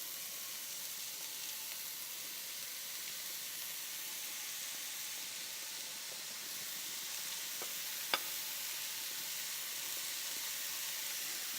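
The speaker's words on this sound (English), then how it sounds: "now we're just going to cook those, give it a stir here" Minced shallot and pulsed mushrooms sautéing in a pan for bistro burgers, a faint steady sizzle and hiss throughout with one sharp click of a utensil near the end.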